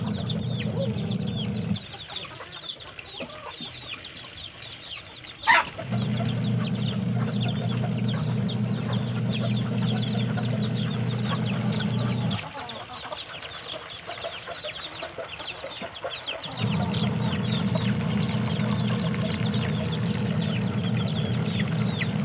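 Hens and chicks let out of their pen cluck and peep steadily nearby, with a louder stretch of clucking interrupted by a sharp knock and brief quieter gaps.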